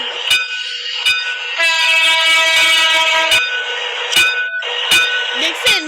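A train in a Bangladesh railway simulator game sounds a long, steady multi-tone horn as it starts off, with sharp clicks and rail clatter before and after the horn.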